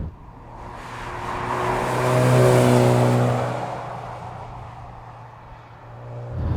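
Porsche 944 S2 engine, warm and running, revved up and back down in one smooth swell, close and fairly loud, then settling back to idle with a second rise starting at the end.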